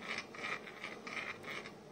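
A motorcycle crankshaft is turned by hand inside a freshly tightened crankcase, giving a steady series of soft, rhythmic mechanical clicks and whirs, close and quiet, with no talking.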